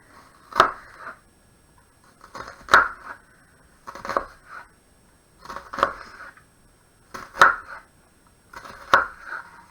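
A knife slices through a courgette onto a chopping board, six crisp, evenly spaced cuts each ending in a sharp knock on the board, close and clear with quiet pauses between.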